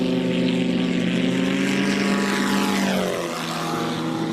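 An autogyro aircraft taxis on a runway, its loud propeller engine droning with steady harmonic tones that shift in pitch near the end as it passes close by.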